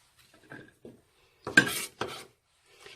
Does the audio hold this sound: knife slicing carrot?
yes